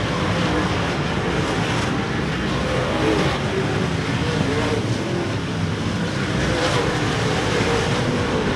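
Race cars roar around the oval at RPM Speedway in a continuous, dense wash of engine noise. It stays loud and steady, with a voice faintly present beneath it.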